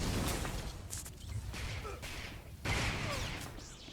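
Bursts of blaster gunfire in Star Wars: The Old Republic during a world boss fight with a bounty hunter, dense overlapping shots and swooshes crackling continuously at close range.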